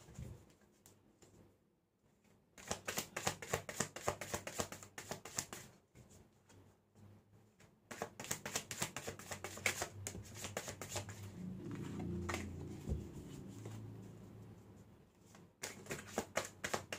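Tarot cards are shuffled in quick, crisp riffling bursts, quiet and close, broken by short pauses and a soft low thump between rounds.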